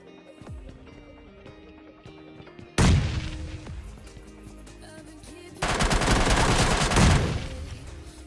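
In a mobile battle-royale shooter, loud MK14 rifle fire comes in two heavy volleys of rapid shots with booming echoes. A scattered clatter of distant shots and game sounds plays underneath.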